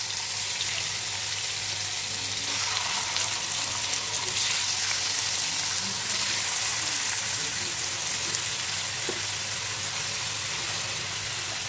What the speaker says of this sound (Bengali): এইভাবে সব আমি চিকেনগুলি দিয়ে ভেজে নেব।